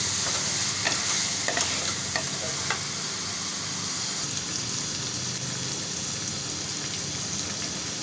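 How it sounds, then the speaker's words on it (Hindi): A large chopped onion hits hot oil in a pan for a minced meat and potato dish, sizzling and crackling steadily and close by, with a few sharp spatters early on and no talking. "अब डालने जा रही हूँ मैं प्याज"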